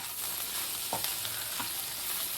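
Broad beans (chikkudukaya) frying in a pan, a steady loud sizzle throughout with a couple of faint scraping knocks from stirring.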